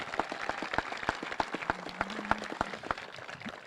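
Sparse clapping from a graduation audience at a Class of 2021 ceremony, a modest scatter of individual hand claps rather than a full ovation, with a faint low hum in the middle.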